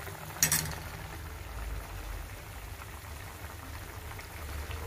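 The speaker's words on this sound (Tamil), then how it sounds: "குழம்பு நல்லா கொதிக்குது" Low bubbling and simmering from a pot of fish curry (meen kuzhambu) on the boil, a soft steady gurgle with one brief sharper pop near the start.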